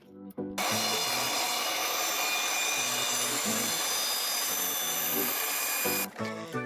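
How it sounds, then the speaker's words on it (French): Sanding the end of an intercooler pipe for a BMW E36 325 TD, a steady, loud abrasive grinding that runs continuously for several seconds at close range, with brief quieter moments at the start and end. "Là, on est en train de poncer le bout."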